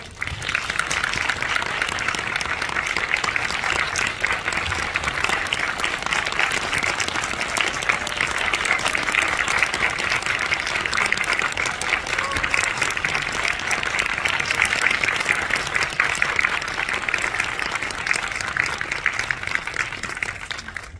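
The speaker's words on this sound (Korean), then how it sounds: "박수로 맞아주십시오." A theatre audience applauds steadily and loudly as a film director and actors walk onto the stage for a special talk, dense continuous clapping lasting throughout with no voices over it.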